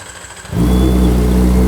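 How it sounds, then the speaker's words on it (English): A Kawasaki ZX4RR motorcycle fitted with a full Yoshimura exhaust system cracks from a quiet background into a loud, sustained, bassy rev, holding a steady high engine note up close. "We recently fitted a full Yoshimura exhaust system on this machine, so you guys get to hear how this sounds."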